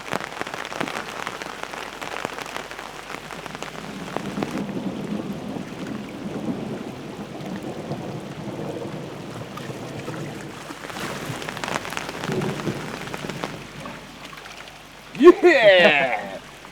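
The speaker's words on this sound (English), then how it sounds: "Just as the rain starts, eh?" Rain patters steadily on a river surface during a fishing session, a soft broadband hiss running throughout alongside faint voices, with a brief louder splash or rustle near the end.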